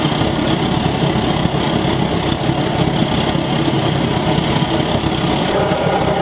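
A homemade waste oil burner built for space or water heating runs steadily, a constant low roar and rumble like an idling engine, loud and unchanging throughout with no voices.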